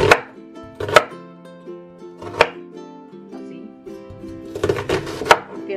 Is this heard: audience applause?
no